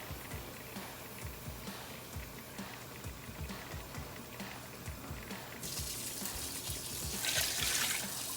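Water poured into a pot of fish soup, a steady running stream that grows louder and brighter toward the end, close by.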